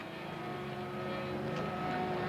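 Radio-controlled model airplanes flying pattern at a national model aviation meet, a steady, faint drone of small propeller engines in the distance with no talk.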